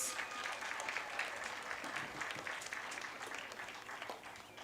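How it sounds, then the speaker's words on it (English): A crowd at a North Tonawanda vs Kenmore East football game applauds a senior player, with steady, dense clapping that holds for several seconds at moderate distance. "Let's give a round of applause for Marcus."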